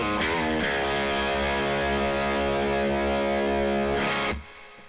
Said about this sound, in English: You're hearing reverb from the Princeton.